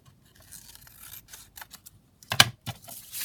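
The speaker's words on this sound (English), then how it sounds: "just cutting this piece down" Scissors cut a piece of paper for a junk journal: a few quiet snips, then a louder crisp cut, close by and with no talk.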